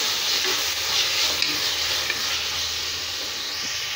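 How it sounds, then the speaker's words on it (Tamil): Ginger, garlic, mint, coriander and green chili paste sautés in a pan for mushroom biryani, giving a steady, close broadband sizzle and hiss that runs continuously with faint stirring scrapes and no talk. "இஞ்சி பூண்டு, புதினா, கொத்தமல்லி, பச்சை மிளகாய் இந்த பேஸ்ட்டை சேர்த்து நல்லா பச்சை வர போகிற வரைக்கும் நல்லா வதக்கிக்கலாம்"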